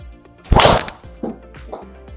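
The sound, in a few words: Ping G440 Max golf driver striking a ball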